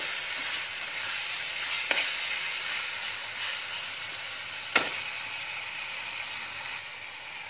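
Chopped tomatoes added to a hot frying pan for paneer sabji give a steady, loud hiss and sizzle throughout, with two brief sharp clicks of a spoon or utensil, close up and without talk.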